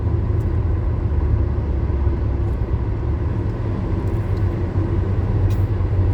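A car rolls past on a road with a loud, steady low rumble of engine and tyres, continuous throughout.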